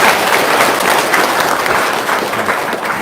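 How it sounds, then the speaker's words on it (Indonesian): Dense, steady audience applause fills the room at close range, loud and continuous for its full length, with no voices over it. "Tepuk tangan dong."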